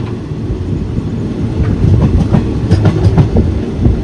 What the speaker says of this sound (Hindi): ट्रेन इस पर मच मच करती है, इधर उधर घूमती है